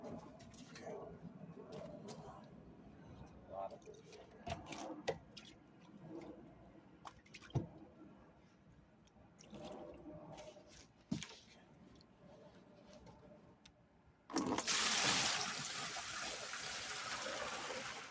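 Liquid holding gold scrap boards is poured into a bucket, with scattered drips and splashes at first, then a sudden loud, steady gush of pouring that continues to the end.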